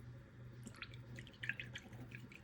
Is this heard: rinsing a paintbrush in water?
yes